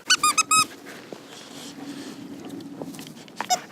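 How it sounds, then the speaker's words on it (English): A new dog toy's squeaker, squeezed by a Siberian Husky or Rough Collie, gives a quick burst of several sharp high squeaks, then a lone squeak near the end over faint room noise. "there is a squeaker in there"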